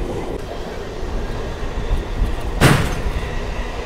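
Steady rumble of a Bengaluru to Kolar MEMU train moving along the track near Chikkaballapur, heard from inside, with a brief loud hiss or clatter partway through.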